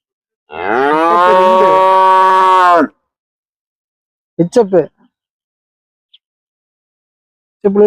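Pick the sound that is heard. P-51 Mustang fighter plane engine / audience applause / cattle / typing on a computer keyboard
cattle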